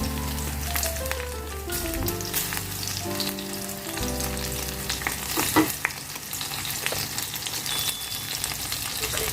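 Green chillies and garlic cloves frying until brown in oil with nigella seeds for a bottle gourd skin dish, a loud, continuous sizzle with occasional spatula scrapes and pops, no voices.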